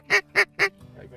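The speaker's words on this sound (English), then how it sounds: "Just watch out for those honkers on the left." Ducks and geese calling over an oat field on a windless hunting morning: three loud, close honking quacks in quick, even succession, then quieter calling and background noise.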